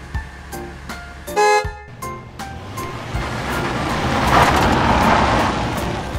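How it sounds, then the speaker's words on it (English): Toy mail van sound effect: brief electronic horn toots around the first two seconds, then a steady rushing engine-like whoosh that builds and holds, loud and close with no talking. "Mail van."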